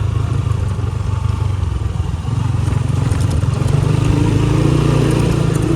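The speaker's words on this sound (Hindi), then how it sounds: "इस तरह के रोड पे हम एक ही हाथ से जो है ना बाइक चला रहे हैं" A motorcycle ridden one-handed over a rough, broken village road, its engine droning steadily and loud throughout with low rumble and rattling clatter from the bumpy surface.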